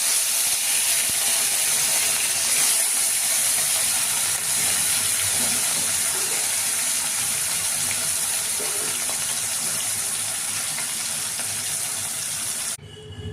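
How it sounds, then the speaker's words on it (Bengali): Fish fries in mustard oil in a wok with a loud, steady, close sizzle and hiss that continues unbroken, with no voices. "দেখো, এবার কড়াই সর্ষের তেল দিলাম। এবার মাছগুলোকে ভাজবো।"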